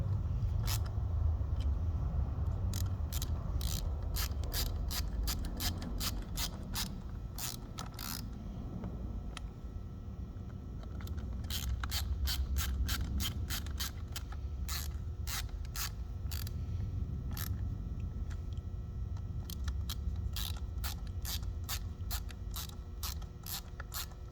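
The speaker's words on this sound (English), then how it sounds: "Use my favorite screwdriver." A Snap-on screwdriver works on the carburetor of a 1982 Yamaha Seca 650, giving a steady mechanical ratcheting with rapid clicking bursts over continuous low rumble, close and fairly loud, with no talking.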